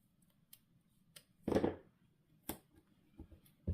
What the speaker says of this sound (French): Et je coupe.